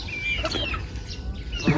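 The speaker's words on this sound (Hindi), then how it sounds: "मुर्गी हमारी जो है ये भोग चाय का खा रही है।" A hen in a Punjabi village clucks in short, nasal bursts amid a busy outdoor background with other birds, fairly close.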